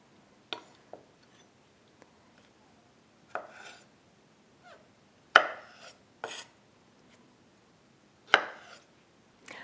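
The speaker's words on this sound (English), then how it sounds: "I want to slice this just like the pickles, very thinly" Knife slicing pickles very thinly on a cutting board, a handful of sharp, separate chops spaced irregularly, close and fairly quiet with silence between strokes.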